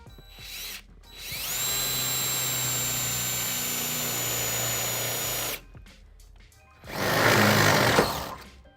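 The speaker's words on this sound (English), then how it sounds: "now I'll be using 3/8 drill bit to drill a hole into the rear frame of the vehicle" A power drill with a 3/8 inch bit bores into the rear steel frame of a 2009 Ford Edge during a trailer hitch install, giving a loud, steady high whine for about four seconds and then a second shorter, rougher burst.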